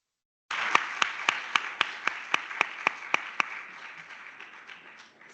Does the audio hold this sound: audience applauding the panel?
yes